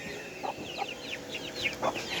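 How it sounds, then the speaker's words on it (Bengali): Hens clucking at home near a brood of newly hatched chicks, several soft short clucks scattered over a quiet, faintly noisy background, no talking. "আমি দুটো মুরগি দেখাই"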